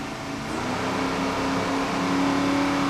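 Mercury-powered 38-foot Fountain racing powerboat with two 500-horsepower inboards roaring in an offshore race, a steady loud engine drone that swells slightly over three seconds with no talk.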